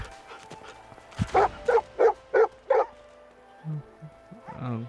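A dog in the video game Divinity: Original Sin 2 barks five times in a quick, even series, followed by softer whimpering sounds and a voice near the end.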